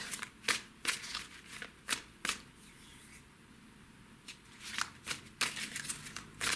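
Tarot cards being shuffled by hand: a series of crisp riffling bursts with short pauses between them, fairly close and quiet, with no talking.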